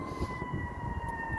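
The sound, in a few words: emergency vehicle sirens in city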